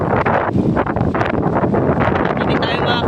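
Strong monsoon wind at sea gusts into the microphone as steady, loud broadband roar with buffeting surges throughout, a voice faintly mixed in.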